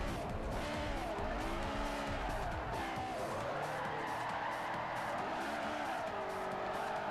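A Honda S2000 drifting in Forza 4, tires squealing loudly and continuously with a wavering pitch over a steady, close engine roar.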